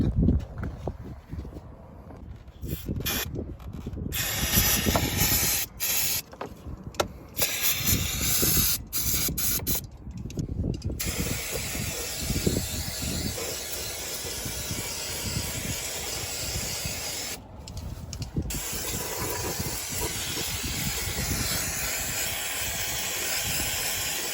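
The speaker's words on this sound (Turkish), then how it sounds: "şurayı bir kapatıp balata sprey vuracağım" Brake cleaner spray hisses under a Ford Courier engine in a long, loud, broadband aerosol burst, broken by brief pauses early on, then continuing steadily close to the can.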